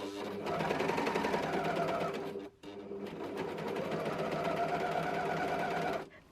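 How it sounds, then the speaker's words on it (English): Overlocker serger running an overlock stitch around fabric, a fast steady mechanical whir close by that pauses briefly partway through, then resumes and stops near the end. "We've now done a lovely neat overlock stitch all the way around"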